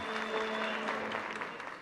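A studio audience claps steadily as a singer, a former Popstar contestant, is welcomed back to the stage; dense, even applause fills the short stretch without a break.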